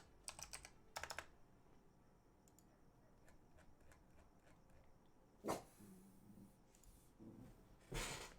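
A dog barks indoors in the background, a few separate barks under quiet keyboard typing and clicking, faint and distant.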